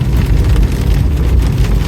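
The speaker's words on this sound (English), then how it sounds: "I hope you guys can hear me over the rain." Heavy rain pours steadily on a vehicle while parked or driving near a flea market, a dense, continuous, loud wash of noise with a low rumble and no voices.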